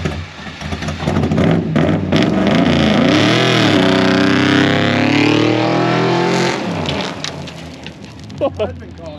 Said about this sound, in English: Just put it in second right now and dump the clutch.